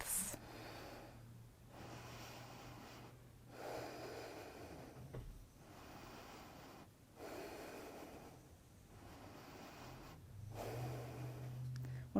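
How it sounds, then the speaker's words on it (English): Slow, full breaths drawn in and let out during a core exercise routine, several long rounds of inhaling and exhaling at a steady, unhurried rhythm, close and fairly soft with no talking. "Full smooth breaths."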